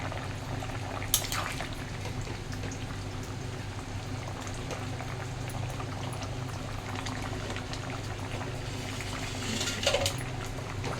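A pan of rohu fish broth with Malabar spinach boils with continuous close bubbling and gurgling, steady throughout with a brief clink early on and a slight swell near the end.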